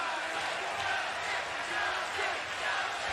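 A hometown crowd cheering at a wrestling match, a steady wash of many voices roaring and whooping, loud and continuous.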